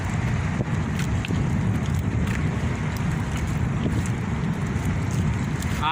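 Boat engine and wind at sea off a fishing boat behind a ship, a steady broadband rumble with wind buffeting the microphone throughout, no talking.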